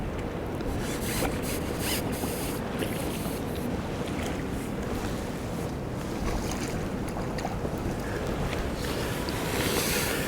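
Steady wind buffets a lakeside microphone at a fishing match, a dense rumbling roar that holds constant and loud throughout with gusty flutter and no break.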